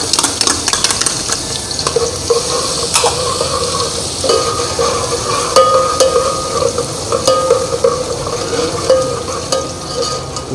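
Chopped garlic and ginger sizzle steadily in hot oil with cumin seeds, with frequent stirring and occasional spoon scrapes against the pot, loud and close throughout.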